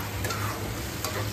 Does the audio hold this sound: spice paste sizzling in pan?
yes